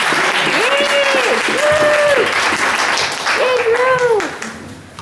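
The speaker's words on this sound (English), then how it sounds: "Clap now." An audience at a poetry reading event applauds steadily for about five seconds, with whooping, cheering voices rising over the clapping before it tapers off near the end.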